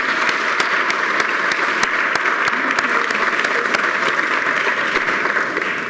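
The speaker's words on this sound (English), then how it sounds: "Can we please give all the Centennial members a round of applause" Sustained applause for Centennial Society members at a New York dinner event, with dense steady clapping from a large room of people, loud and continuous throughout without talking over it.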